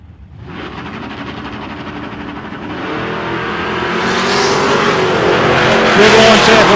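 Supercharged nostalgia drag cars, one with a 621-cubic-inch engine and a 6.2 LSA supercharger, launch hard and roar away at an Australian drag race, the engine noise loud, continuous and building over several seconds.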